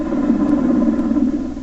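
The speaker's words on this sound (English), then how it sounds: "This is what a normal Black Hawk sounds like." A Black Hawk helicopter's steady, droning rotor and engine rumble, continuous and fairly loud, with no voices.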